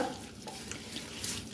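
Spoon stirring a beef biriyani mixture with rock salt in a pot, soft scraping and light sizzling, faint and close.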